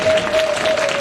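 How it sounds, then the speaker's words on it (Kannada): Loud applause from a crowd at the opening ceremony of a blind school building, a brief dense burst of clapping with a steady tone running underneath. "ಜೋರಾದ ಚಪ್ಪಾಳೆಯೊಂದಿಗೆ"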